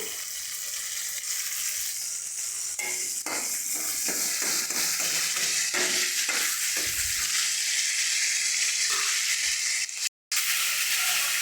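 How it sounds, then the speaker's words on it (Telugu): Curry leaves crackle and sizzle in hot oil in a kadai, a steady bright frying hiss with scattered sharp pops and stirring scrapes, close and fairly loud, broken by a brief cut near the end. "ఇప్పుడు ఇదే బాండీలో కొంచెం ఆయిల్ వేసుకొని కరివేపాకు వేసుకుందాము"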